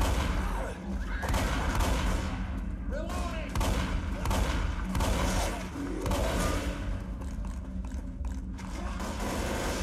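Shotgun blasts in Left 4 Dead, loud booming shots repeating amid dense game noise and chaotic action, with someone talking over the gunfire.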